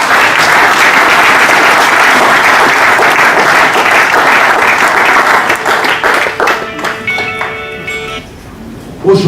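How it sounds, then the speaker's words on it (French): Loud, dense audience applause in a hall that holds steady for several seconds, then thins into scattered claps and fades, with a brief voice near the end. "Est-ce que vous pouvez applaudir pour vous?"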